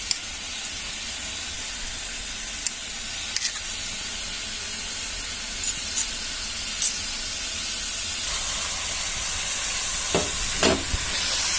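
Eggs sizzle and hiss in hot spiced oil for a Bengali-style egg curry, a continuous loud frying crackle with a few sharper pops near the end.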